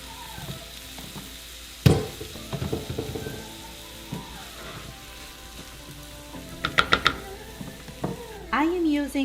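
Riced cauliflower sizzles and crackles in a hot pan while a utensil scrapes and clatters against it repeatedly, with a voice speaking briefly toward the end.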